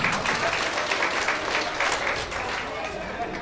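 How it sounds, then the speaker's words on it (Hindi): Audience applause fills a company foundation day celebration, a dense steady patter of many hands clapping throughout at a moderate, fairly close level before easing slightly near the end. "उनके लिए भी जोरदार तालियों से अभिनंदन करेंगे।"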